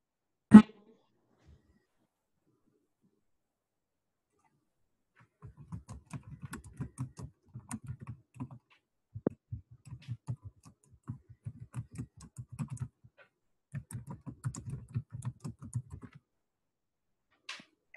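A chat message is typed on a computer keyboard during an online presentation, as soft, fairly distant keystrokes in several irregular runs over a quiet background, with no talking.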